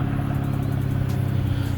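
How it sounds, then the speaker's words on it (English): Cadillac ATS 2.0 turbo with an LTG engine, catted downpipe and straight-pipe exhaust, heard from outside as a steady, loud, deep exhaust drone with a low rumbling idle and no talking. "you can hear the turbo right out of the exhaust"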